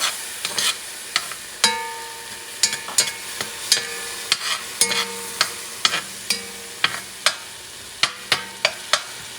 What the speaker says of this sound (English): So what I'm going to do, got grated tomato. Going to mix things up.